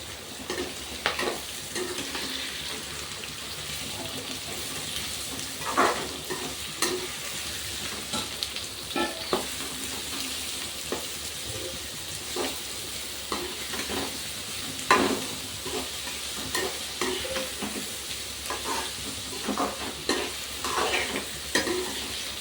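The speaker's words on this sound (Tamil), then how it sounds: "வெங்காயத்தில் இது நல்லா வதங்கணும்" Onions sizzle and fry in hot oil in a pan for brinjal thokku, with continuous close frying crackle and occasional stirring scrapes and clinks throughout.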